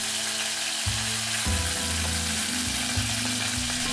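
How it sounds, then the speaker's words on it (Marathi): Curry leaves sizzle in hot oil in a pan or kadhai while an amti made with raw mango is cooked, giving a steady broadband hiss that stays close and even, with soft stirring or shifting sounds under it and no voices. "तापलेल्या तेलात कढीपत्ता घाला।"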